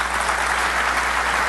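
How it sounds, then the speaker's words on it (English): Brief burst of steady audience applause at a TEDx event, dense and even throughout with no voices. "Hand of applause for the presentation we will have tonight."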